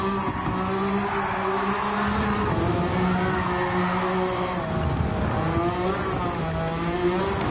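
A BMW Z4 in Gran Turismo 7 drives a racing lap, its engine steady and loud with rising and falling revs as it shifts, and faint tire squeal through corners.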